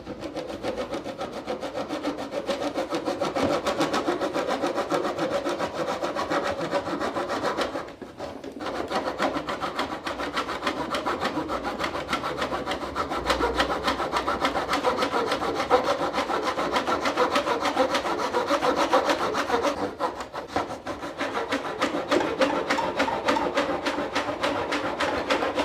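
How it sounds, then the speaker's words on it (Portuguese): A hand saw (back saw) cuts through wood with its side held flat against a ruler, giving a steady, close, continuous rasping rhythm of strokes with one brief pause partway through. "Agora eu consigo enfiar o serrote aqui e vir serrando com a lateral do serrote encostada na régua."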